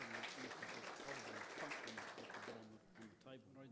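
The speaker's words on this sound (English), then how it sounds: "Round of applause to everybody who involved in the." An audience at a photography honours presentation claps in a broad, sustained burst that fades toward the end, with a voice speaking over the applause.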